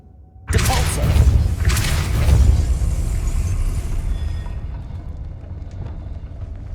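A Depulso force-push spell cast in Hogwarts Legacy on PS5 bursts out with a sudden heavy whoosh and thud, then a rumbling crash that slowly fades into a quieter ambient tail.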